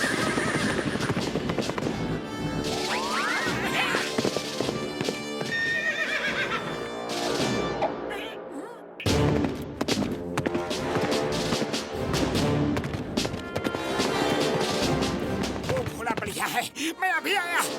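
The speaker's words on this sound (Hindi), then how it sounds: "वो देखो घोड़े" Cartoon horses whinny and neigh over busy animated music and sound effects, with galloping hoofbeats and clip-clop rhythms running through most of the stretch, loud and near, with a brief pause midway.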